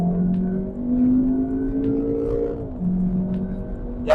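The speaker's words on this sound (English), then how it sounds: "when you whack it over into manual with a bit of sport and then put it into a race mode" A VW Golf R Estate in race mode pulls hard through second gear, its engine note rising steadily and loud from inside the cabin, then dipping briefly at a shift before climbing again, with no talking.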